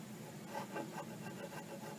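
A chisel scraping primer, paint and stain off a wooden tabletop: faint, soft rasping strokes repeat in a quick uneven rhythm, close by and alone.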